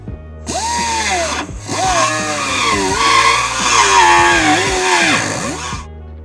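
A power drill spins a burr bit to enlarge a hole for a nutsert on a diesel vehicle, a loud close whining grind whose pitch wavers and dips as the load changes, briefly stopping once before resuming.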